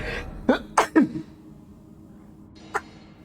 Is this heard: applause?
no